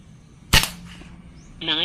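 A GCMAG BR gel blaster fires a single sharp, loud shot, a brief crack standing out against quiet background, followed by faint talk.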